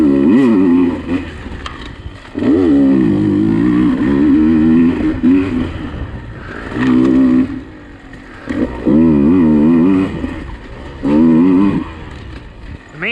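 A motorcycle laps a woods-turn track, its engine swelling loudly in repeated bursts of revving out of corners, separated by quieter lulls between them.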